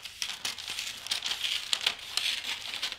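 Scissors snip and crinkle through faux snow wrapping paper with a blunt blade, giving a close, busy run of papery crunches and rustles with no talk.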